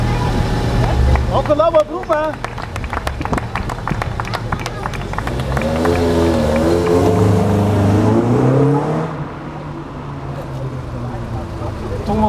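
A 1988 Mercedes 190E with a 2.5-litre, 235 hp engine idles and revs at a classic car meeting in Kemnath, a steady mechanical drone rising mid-clip beneath an announcer's voice and crowd noise.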